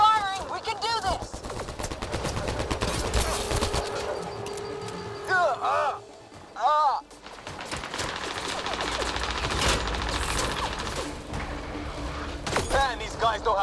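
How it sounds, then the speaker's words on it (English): Rapid bursts of gunfire in the video game Mass Effect: Andromeda, with repeated rattling automatic shots and mechanical clatter throughout, broken by brief voiced shouts and squealing effects, loud and close. "Just keep firing!"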